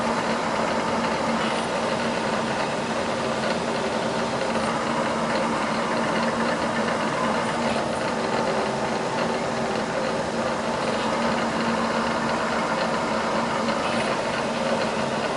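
Used Cleveland B3VC #30 toolroom CNC bed mill with a Centroid M15 control running a simple program, a steady close mechanical hum and whine with constant drive noise and no talking.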